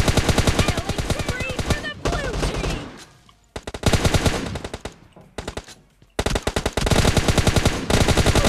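Loud, rapid automatic gunfire in the video game PUBG Mobile on a new map in 4 vs 4 mode, dense repeated bursts with brief gaps, close and dominant throughout.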